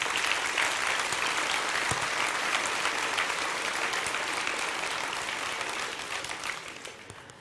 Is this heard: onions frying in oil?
no